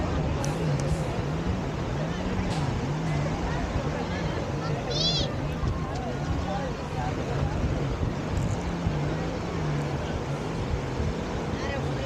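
A jet ski carrying a rider with a small child standing in front skims over sea waves, its engine droning steadily under constant wind and water rush throughout.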